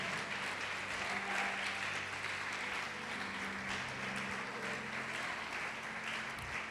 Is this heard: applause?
yes